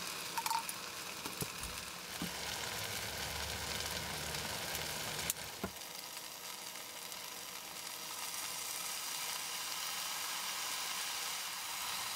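Yakisoba stir-fries inside a small self-built camper with a steady broad sizzle, broken by a few sharp clicks and knocks of utensils against the pan.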